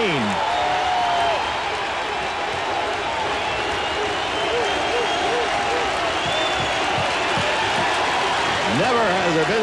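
A baseball crowd at Fenway cheers and applauds a strikeout by Roger Clemens in 1986, a dense, sustained roar of applause and shouting at constant loudness, with occasional whistles and a voice faintly audible within it.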